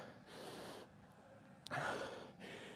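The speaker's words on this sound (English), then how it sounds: "my breathing, I know it probably sounds awful on the microphone" Heavy breathing from someone lifting weights during a squat, bench and deadlift session: a few loud, close breath bursts, sharp inhales and forceful exhales separated by brief pauses, with no speech.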